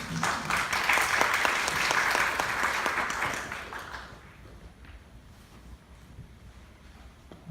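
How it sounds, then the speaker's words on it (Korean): Lecture audience applause, a dense burst of many people clapping that holds for about four seconds, then fades out, leaving quiet room tone and a sudden knock at the very end. "박수 한번 주세요."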